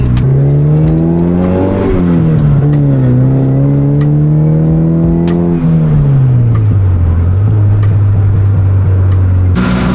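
A Proton Saga with a SOHC 4G93 engine roars close by during a test drive, its engine note climbing and dropping as it revs through gears, then cutting off abruptly near the end.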